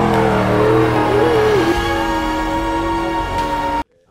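A car engine drones loud and close in fourth gear across very soft dirt at a dirtkhana event, its tone climbing then holding steady before cutting off abruptly.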